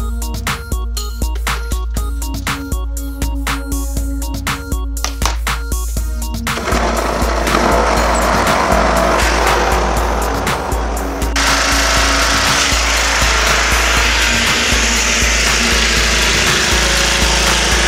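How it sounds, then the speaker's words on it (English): A lawn mower runs steadily outdoors while picking up fallen leaves, its engine a loud continuous drone with rapid clicking knocks at first, then a denser, rougher roar as debris is drawn in. "I'm picking up the leaves with the mower."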